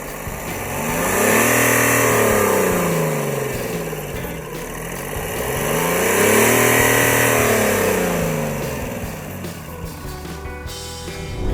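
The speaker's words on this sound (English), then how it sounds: "we've been driving around in this Tiago for a while" A Tata Tiago's three-cylinder diesel engine drones nearby, rising and falling in pitch through two long revving swells as the car drives.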